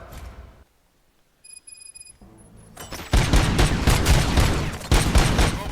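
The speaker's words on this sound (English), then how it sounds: "Gunshots? What's going on?" Gunfire from the Robocop Rogue City video game, a short lull with faint ticking tones before a loud, dense fusillade of rapid shots breaks out and continues to the end.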